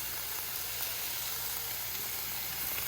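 Cabbage fries in a pan with a steady, close sizzle and hiss that carries on evenly without pause.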